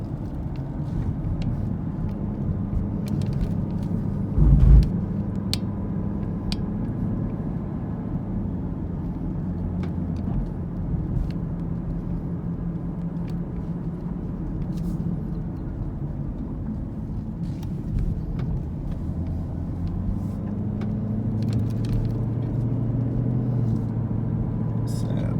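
A car cruising through a residential neighborhood of older and newer houses, with a steady low road rumble and engine hum throughout, a brief thump partway, and someone talking over the drive.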